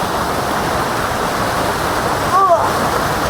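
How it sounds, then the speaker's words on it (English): Broadband rushing water from a waterfall at natural pools on Maui, steady and close throughout, with a brief splash or voice-like rise near the end. "Let's look under this waterfall."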